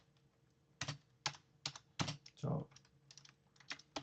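Computer keyboard typing in clustered keystroke bursts, close and fairly crisp, with a brief louder clatter in the middle, during a Linux and Bash scripting lesson.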